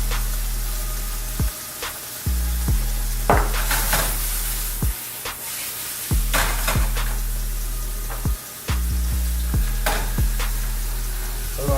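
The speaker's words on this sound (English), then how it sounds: "So we're gonna saute this chicken." Chicken sautéing in a shallow frying pan with chili powder, onion powder and garlic sauce, sizzling steadily and close up, broken by repeated stirring scrapes and clatters of utensil against pan roughly every second.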